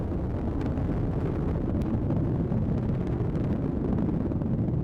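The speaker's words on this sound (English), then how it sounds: "Booster engine continues to operate as expected. Mach 1, Atlas V is now supersonic." An Atlas V rocket's booster engine during launch ascent from Cape Canaveral, heard as a dense, continuous roaring rumble that is heavy and distant-sounding, with crackle and wind buffeting on the microphone throughout.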